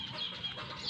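Backyard chickens cluck softly at close range on a hot day on a small vegetable farm, short bursts of clucking without any talk.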